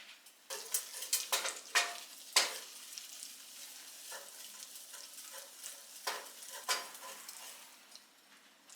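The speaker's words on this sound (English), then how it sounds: "we're gonna brown 6 tablespoons of butter" Six tablespoons of butter brown and foam in a pan as it is stirred, with a faint, steady sizzle and irregular close scrapes and taps of the utensil against the pan.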